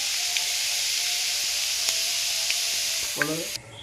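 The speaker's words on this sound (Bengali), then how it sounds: "ভাববেন যে এটা ভাজা হচ্ছে" Steady, loud sizzling of moong dal frying in hot oil, with a few faint clicks and a brief clatter near the end.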